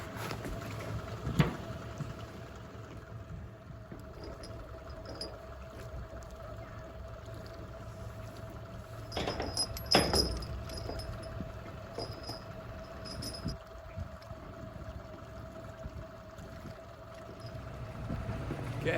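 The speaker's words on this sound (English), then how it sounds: "I've got the motor in gear, putting a little outward thrust on the log boom just so I drop this anchor in the right spot" A boat motor runs in gear, pushing outward against a floating log boom, as a faint, steady low rumble broken by a few soft knocks and splashes.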